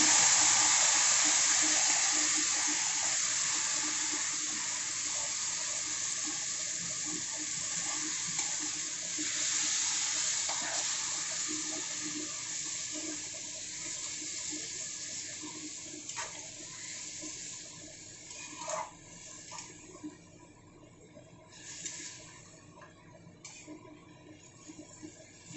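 Marinated chicken dropped into a pan with browned garlic, giving a loud hissing sizzle that slowly fades, with occasional stirring clinks later on.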